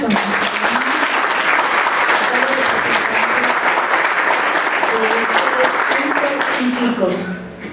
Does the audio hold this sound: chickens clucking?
no